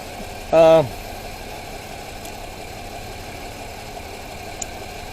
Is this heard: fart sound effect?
no